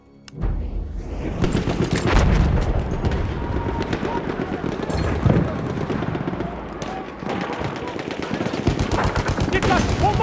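Battlefield 1 conquest combat at Fao Fortress: bursts of rapid machine gun fire and booming explosions roll on loud and nearly continuous, with a voice calling out over the din.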